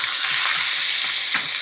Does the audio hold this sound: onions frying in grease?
yes